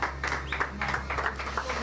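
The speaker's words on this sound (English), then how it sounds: "Teams down below cheer." Teams cheer and applaud below a motor racing podium at a Valencia winter series round, a steady wash of clapping and shouts held at a moderate distance for the whole moment.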